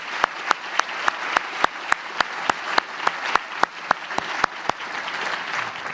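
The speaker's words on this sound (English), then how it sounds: "Have a round of applause for them" Applause for the staff at a Texas MS programs commencement ceremony, a steady wash of crowd clapping with a few sharp regular claps standing out above the mass, sustained through the clip.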